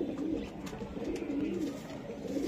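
Racing pigeons at a loft coo in low, continuous warbling murmurs, several birds overlapping close by with a steady rhythm and no voices.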